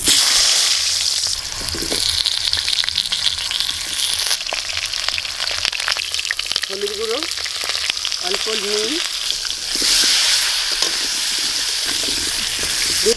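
Loud, continuous sizzling of potatoes frying in hot oil until reddish, for a goat meat curry, with occasional stirring scrapes and no voices.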